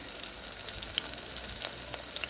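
Onions sautéing in a pan, giving off a steady, close crackling sizzle with small pops scattered throughout, heard alone without any voices.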